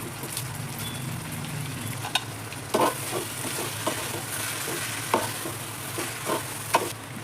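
Chicken for coconut biryani is stirred in a hot pot, with a soft steady sizzle and scattered scraping clicks of the spoon against the metal, quiet and close, with no talk.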